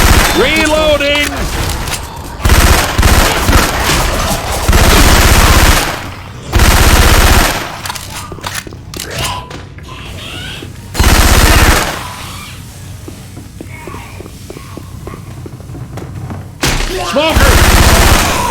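Syphon Filter weapon effects swapped into Left 4 Dead 2, with loud, close automatic gunfire in long sustained bursts separated by brief pauses, plus occasional voice callouts.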